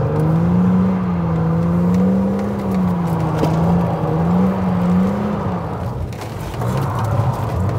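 A BMW M3 drifts with a loud, steady engine drone that wavers in pitch, close and continuous, fading slightly near the end.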